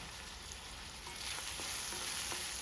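Onion pieces with turmeric and salt frying in smoking hot oil for a Telugu telagapindi curry, a steady soft sizzle with faint stirring clicks, growing slightly louder toward the end.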